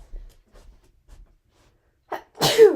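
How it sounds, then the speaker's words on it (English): A single loud sneeze near the end, with a sharp intake of breath just before it, after a stretch of quiet with faint soft noises. "Already sneezing up a storm."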